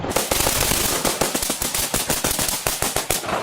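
Gunshots fired during a police manhunt, a rapid run of sharp loud cracks in quick irregular succession, close and dominant, with no talk.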